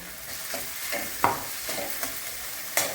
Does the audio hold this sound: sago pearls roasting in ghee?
yes